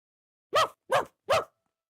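A voice imitates a dog barking: three short, evenly spaced woofs, close and clear, with silence between them.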